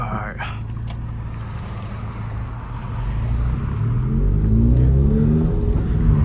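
A Toyota GR86 engine drones under load and then rises in a loud, close rev, its pitch sweeping upward with a rough, burbling exhaust texture underneath, heard from inside the car during a drive.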